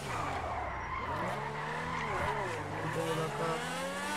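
A Lamborghini in a role-play driving video game on a Romanian server, its engine note rising and falling steadily while the tires skid and squeal loudly and close up throughout.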